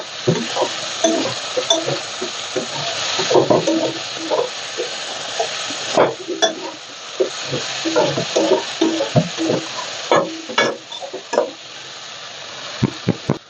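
Jhudang beans and potato curry fry in a pan, a steady sizzle broken by frequent scraping and stirring knocks of a spoon against the metal, close and continuous.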